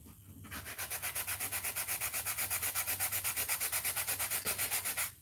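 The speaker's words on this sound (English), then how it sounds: "A sanding block from the Dollar Tree. It's just like a sponge with sandpaper on it." A foam sanding block rubbed back and forth over a painted rock, a fast, even rasping rhythm of repeated strokes, close and clear, with no talking.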